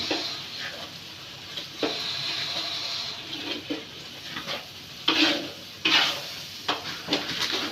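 Food cooking in a pan is stirred with a utensil, making repeated scraping strokes over a low sizzle, with a few sharper clatters as the spoon hits the pan.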